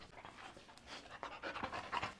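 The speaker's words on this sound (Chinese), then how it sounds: "好久不见我的小狗了" A small dog panting close by in quick, rhythmic breaths, fairly soft and alone.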